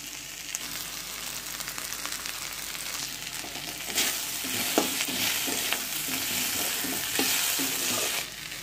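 Onion and capsicum frying in a pan for chilli gobi, giving a steady broadband sizzle with stirring scrapes and a few louder spatula strokes, close and continuous without talk.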